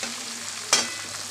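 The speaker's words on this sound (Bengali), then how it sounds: "ভালো করে মাছটা নেড়ে চেড়ে দিলাম।" Pabda fish frying in a pan and being stirred once, a steady low sizzle with one brief louder scrape and hiss partway through.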